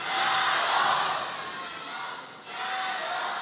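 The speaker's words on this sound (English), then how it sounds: "You have to imagine that having the crowd chanting for him adds a little bit more motivation." A large arena crowd chants steadily and loudly at a table tennis match, Ma Long against Simon Gauzy in the 2017 Men's World Cup third-place playoff, the roar dipping briefly before swelling again.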